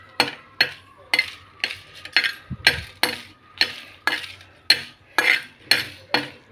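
Dried red chillies frying in a pan, with a metal spoon clinking against it about a dozen times in a steady rhythm, each sharp tap ringing briefly over a faint sizzle.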